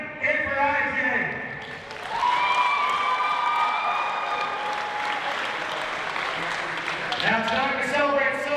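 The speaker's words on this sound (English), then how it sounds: "let's give one more round of applause for Connie and for IJ." Audience applause at a professional wrestling hall of fame ceremony, steady clapping and some cheers across the whole stretch, with a voice speaking over it at the start and again near the end.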